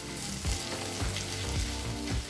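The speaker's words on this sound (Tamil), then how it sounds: "அடிப்பிடிக்காமல் இருக்க கிளறி மட்டும் விட்டுக்கிட்டே இருங்க." Brinjal frying in a pan for brinjal rice, a loud continuous sizzle broken by regular scraping strokes of a spoon as it is stirred; no voices.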